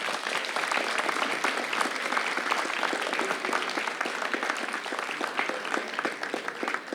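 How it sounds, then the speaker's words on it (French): Sustained applause from an audience at an eloquence tournament final, a dense, steady wash of many hands clapping at moderate distance with no break. "Et encore quelques applaudissements."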